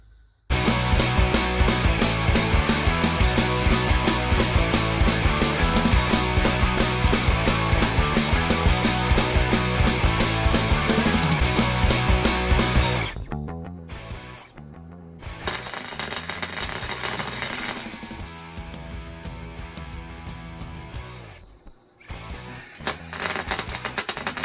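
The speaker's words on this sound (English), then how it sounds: "I'm going to use my stretcher to make a piece up on either end of here as well" A metal stretcher tool works sheet steel into a patch panel for an MGA coupe boot lid, producing a loud, rapid, steady mechanical clatter that runs continuously and then breaks into shorter bursts with pauses, close up and without voices.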